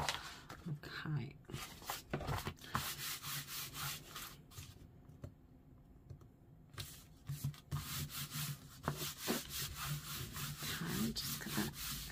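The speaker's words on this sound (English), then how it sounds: "Just give it a good rub down" Glue being rubbed off the cover of a journal made from a file folder, a steady close scrubbing and rasping by hand in repeated strokes with a short pause midway; a voice talks over part of it.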